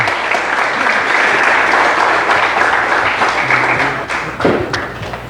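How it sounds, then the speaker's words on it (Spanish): An audience claps in a dense, sustained round of applause that fades slightly toward the end. "Un aplauso para ellos también."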